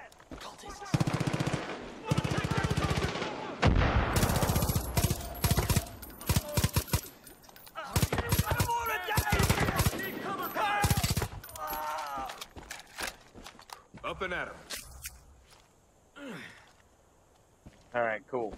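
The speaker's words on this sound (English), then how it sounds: "gunfire fight going on though." Machine gun fire crackles in rapid bursts during a firefight in the Far Cry 5 video game, loud and repeated, with someone talking over and between the volleys.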